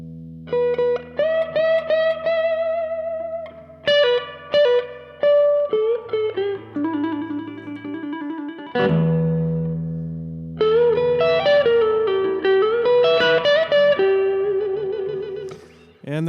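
Slow blues lick on distorted electric guitar, with bent, vibrato-laden sustained notes in phrases separated by short gaps, played alone and loud.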